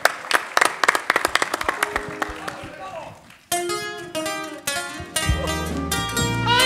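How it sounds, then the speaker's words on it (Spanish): Live audience applause for a trumpet player at a bohemian music show comes as a burst of scattered claps over the first few seconds, then gives way to music and sung or spoken voices. "El aplauso para Mike, por favor."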